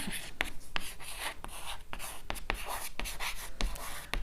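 Marker or chalk writing out a chemistry example on a classroom board, a run of short scratchy strokes with sharp taps between them, close and steady with no talk.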